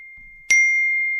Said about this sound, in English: the little beeping whenever the F counter goes off